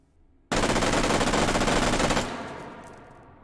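A FAMAS G2 carbine on a bipod fires a sustained full-auto burst in the VR shooter H3VR, loud and dense for nearly two seconds, then cuts off into a fading echo with no talk.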